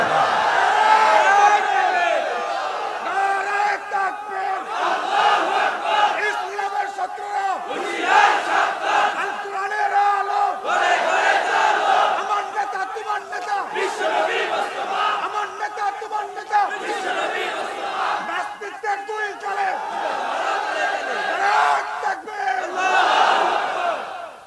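A large crowd at an outdoor Islamic religious sermon shouts a loud, sustained collective takbir response, voices swelling and surging together for the full length with no break.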